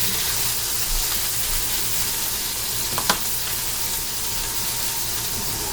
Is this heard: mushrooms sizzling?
yes